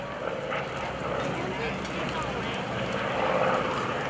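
A 2,300-horsepower F4U Corsair with a 13-foot propeller passes during an airshow, giving a steady, broad engine drone that holds fairly loud throughout, with a commentator talking over it.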